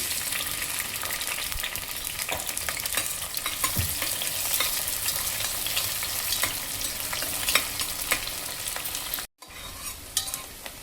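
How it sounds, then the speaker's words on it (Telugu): Chopped onion and green chili frying in hot oil for a village-style broad bean tomato curry, a steady dense sizzle with crackling pops and occasional stirring, continuous and close. "ఆయిల్ వేడైందండి. ముందుగా కట్ చేసి ఉంచుకున్న ఉల్లిపాయ, పచ్చిమిరపకాయ వేస్తున్నాను."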